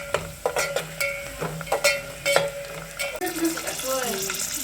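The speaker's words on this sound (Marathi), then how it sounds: "कांदा आता ब्राऊन झाला थोडासा, त्यात खडा मसाला टाकला भाजायला।" Whole spices frying with browned onion in a pan for village-style masale bhat pulao, a steady sizzle broken by repeated scrapes and clinks of a spoon against the pan, close and fairly loud.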